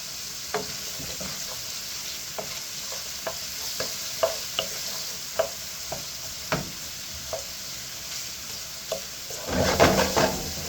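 Onions with salt sizzling in a pan, a steady soft frying hiss broken by regular light taps of a spoon or spatula, ending in a louder burst of stirring and scraping.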